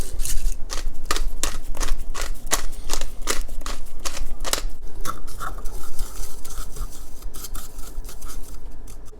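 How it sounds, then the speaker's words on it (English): Ingredients for salt and pepper shrimp get a quick stir in a bowl, producing rapid, rhythmic clinking and scraping strokes, loud and close, with the beat loosening toward the end. "Let's just give it a mix real quick."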